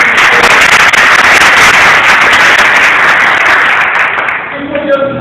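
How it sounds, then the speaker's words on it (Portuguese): A church congregation in Sorocaba applauds loudly and steadily, a dense wash of clapping that holds for several seconds before thinning out near the end. "Vamos aplaudir o Senhor nesse momento."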